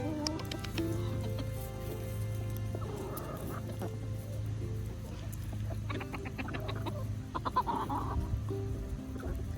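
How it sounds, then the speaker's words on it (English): Polish roosters and other chickens clucking softly on a farm, with scattered short clucks and calls over a low steady hum, a few louder bursts of clucking near the end. "Sometimes the roosters are a little standoffish, like my Polish ones right there."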